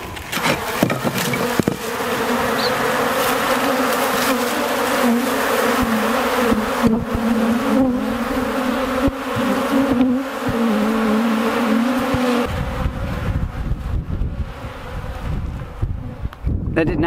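A dense swarm of honeybees drones steadily close by as they are released into a new bee yard, a sustained buzzing hum that shifts and thins toward the end.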